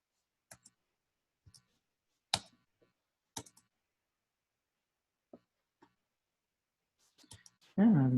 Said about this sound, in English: I'm having a bad time typing today.